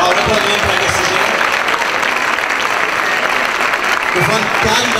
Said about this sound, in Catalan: Va, un aplaudiment per aquesta gent.